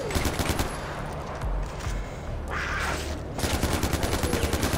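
Sustained automatic gunfire in the video game Far Cry 4 as a whole magazine is emptied, a rapid dense rattle of shots that breaks briefly and then resumes in a fast burst.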